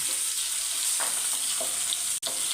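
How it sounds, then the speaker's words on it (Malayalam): Chopped shallots sizzle and fry in hot oil with already-popped mustard seeds, a steady close crackling hiss with a few stirring scrapes and one sharp click near the end. "കടു പൊട്ടിയിട്ടുണ്ട് നമുക്ക് അതിനകത്തോട് ഈ കൊച്ചുള്ളി എല്ലാം ഇടാം എന്നിട്ടൊന്ന് വഴക്കാം"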